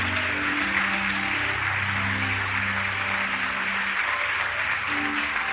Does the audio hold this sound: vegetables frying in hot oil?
no